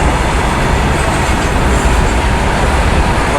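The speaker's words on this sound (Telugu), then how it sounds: "మన గోదావరి ఎక్స్ప్రెస్ అయితే ఓవర్టేక్ కొడుతుంది" The Godavari Express rumbles along a triple-track line on the Visakhapatnam to Raipur route, a loud, steady roar of wheels and carriage noise heard close, with no voices.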